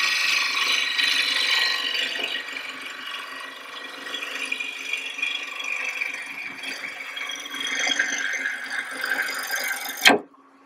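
A 5/8 inch bowl gouge cuts the interior lower third of a wooden bowl spinning on a lathe, giving a steady close rasping, chattering cut that ends with an abrupt clack.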